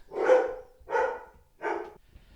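Three evenly spaced barks from dogs in the home where a podcast is being recorded, each moderately loud and fading out, with no voices over them.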